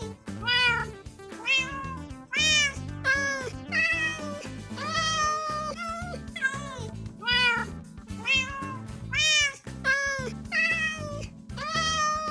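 A cat named Julio Carlos meows repeatedly and close by, a string of clear, drawn-out, expressive meows in irregular rhythm with short pauses between them.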